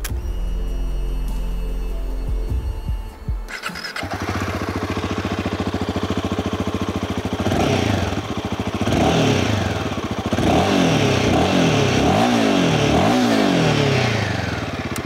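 Royal Enfield Himalayan 450 motorcycle with its short-stroke engine, starting from a low idle and then revving repeatedly in sharp rising and falling bursts, loud and close, with no talk.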